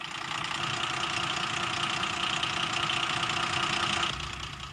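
An SNCF BB 66000 diesel locomotive idles with a steady, loud rumbling drone and faint knocking pulse, holding constant before easing down near the end.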